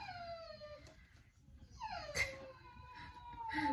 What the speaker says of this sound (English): My dog is super vocal.